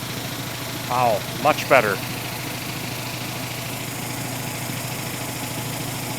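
Giant vibratory tumbler running on a heavy steel pallet base, a steady low mechanical hum and drone, with a person briefly speaking over it near the start.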